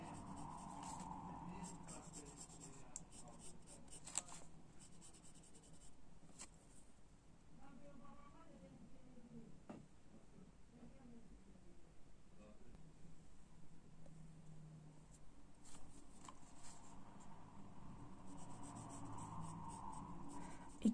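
A fine pen scratches across paper in a minimal line drawing, with soft continuous strokes and light rubbing sounds, close up and quiet, no voices over it.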